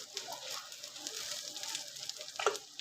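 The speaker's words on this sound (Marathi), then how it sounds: "मालवणी तिखट मसाला पण ते मंद गॅसवर परतून घेऊ" Malvani spicy masala sautéing over low heat in a pan for stuffed eggplant, giving a faint, steady sizzle with soft crackles and light stirring noises.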